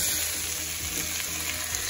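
Shrimps fry with softened onions and ground spices in a shrimp and okra stew, giving a dense, steady sizzle that stays close and even the whole time.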